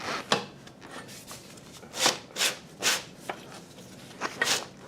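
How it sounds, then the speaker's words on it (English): The rear chain of a 2001 Kawasaki Ninja 250 is worked off the rear sprocket by hand, giving close, intermittent bursts of metallic rubbing and scraping separated by short quiet gaps. "pull the chain off the sprocket. So, and then roll the wheel back."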